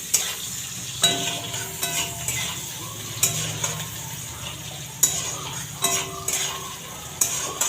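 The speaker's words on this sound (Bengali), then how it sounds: "একটু পেঁয়াজটা ভাজা হোক।" Onion fries in a pan for an egg curry, a low continuous sizzle punctuated by regular clinks and scrapes of a spatula stirring against the metal.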